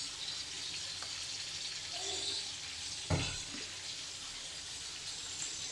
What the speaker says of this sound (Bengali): এই কাইলি জিরে ভর্তা বানাবার জন্য রসুন, কাঁচামরিচ আর পেঁয়াজ আমি তেলে ভাইজে নেব